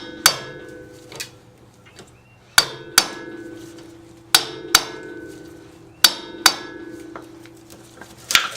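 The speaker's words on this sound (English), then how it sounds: "This one here is rusted on there pretty good, so I got to walk it out with constant hitting." A manual impact driver struck repeatedly with a hammer to break loose rusted brake screws on a 2001 Honda CR-V, giving loud metallic clangs in uneven pairs and singles with ringing decay between blows.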